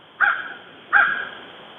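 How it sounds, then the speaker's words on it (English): Two crows caw outdoors, a pair of harsh single calls about three-quarters of a second apart, moderately distant over quiet background. "You can hear the crows."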